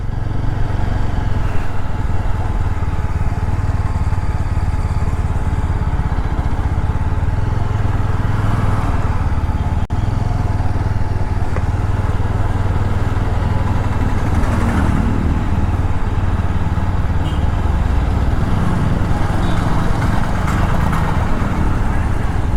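A motorbike engine runs steadily and close by at a market in Perumbavoor, Kerala, as the rider looks for a free spot to park, a constant droning rumble with faint background voices.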